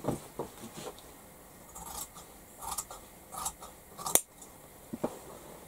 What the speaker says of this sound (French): Et je vais donc découper mes deux rectangles.